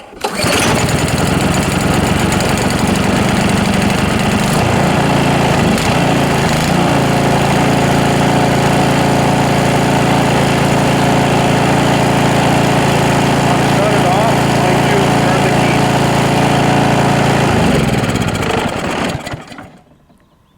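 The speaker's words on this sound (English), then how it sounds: "You're going to turn the key on, turn the choke to full, prime it 2 times, and give it a pull." A single-stage snow blower engine runs loud and steady at close range for about eighteen seconds before cutting out and fading away at the end.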